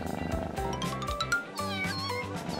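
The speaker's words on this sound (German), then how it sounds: "Das erste Kätzchen." A kitten meows repeatedly in short, close, high-pitched cries, several calls in quick succession with no talk over them.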